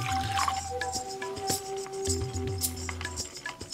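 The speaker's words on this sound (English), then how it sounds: "The first step to making a tea is to add some hot water to the bowl." Hot water poured into a matcha tea bowl, a short close liquid splash and trickle with small drips, fairly quiet, with a steady hum underneath and no talking.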